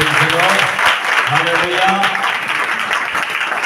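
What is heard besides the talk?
congregation clapping during prayer meeting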